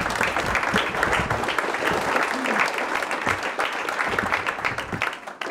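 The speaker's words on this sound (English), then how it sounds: "I think that all of your participation tonight deserves a round of applause." Caucus meeting audience applauding steadily throughout, a dense wash of many hands clapping that fades slightly near the end.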